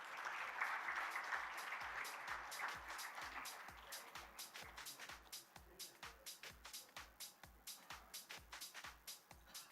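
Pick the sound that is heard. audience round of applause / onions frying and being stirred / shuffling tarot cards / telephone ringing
audience round of applause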